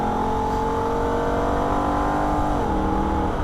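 Holden VF Ute V8 engine revving hard on the Nürburgring, steady high-pitched drone that dips sharply as the gearbox upshifts near the end, loud and close with no talk.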